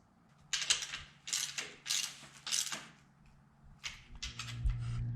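Ratchet wrench tightens bolts on a Towtector Tier 3 hitch rock protector, sounding as several short bursts of close, quiet clicking separated by pauses.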